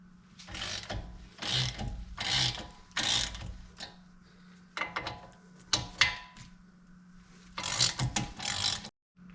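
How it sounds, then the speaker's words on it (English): A ratchet wrench works loose the T55 caliper bolts on a 2013 Porsche 911 (991) brake, giving bursts of rapid clicking ratcheting, several separate spells with pauses between, close and loud with no talking. "we've got two T55 bolts holding the caliper on. They have to come off."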